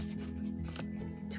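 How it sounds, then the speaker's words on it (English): Scissors snip at the plastic and cardboard packaging of a new American Girl doll, a few quiet close cuts over a low steady hum indoors. "Please, please, scissors, please work with me."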